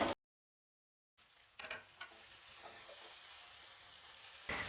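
Medium-sized onions and garlic sautéing in a pan give a steady, soft sizzle after a brief silence, with a few louder crackles and stirring clatters near the start.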